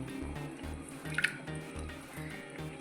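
Traditional fish curry with masala and chili simmers in a pot, giving soft, irregular bubbling and wet popping sounds, with a pair of brief louder pops near the middle.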